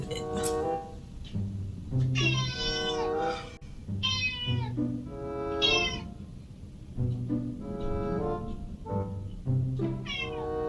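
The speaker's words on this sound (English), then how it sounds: "Here comes my cat." A pet cat meows repeatedly, loud and close, in a series of rising, drawn-out cries with short pauses between them, over a faint low background hum.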